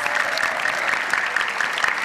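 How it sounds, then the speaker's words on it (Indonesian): Dense, even audience applause rolls on continuously at a sports broadcast event, a crowd clapping together with no pause. "Berikan tepuk tangan untuk RCTI Premium Sports"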